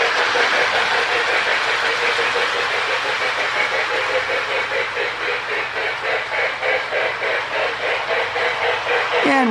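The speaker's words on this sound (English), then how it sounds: "the tender has actually a Lionel Sound of Steam board with a Marx actuator" A Lionel model steam locomotive runs with a Sound of Steam board in its tender, giving a loud, steady rhythmic chuffing that continues evenly throughout.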